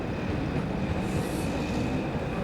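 Elevated Paris metro train rolling along the overhead tracks beside the Goutte d'Or district, a steady loud rumble of wheels and cars with a faint high whine, continuous throughout with no voices.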